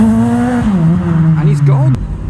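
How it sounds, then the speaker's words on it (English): A modified Honda Civic pulls away from a car meet: a loud, close engine drone drops in pitch, then climbs again with rising overtones before cutting off abruptly. "we've got a Civic departing"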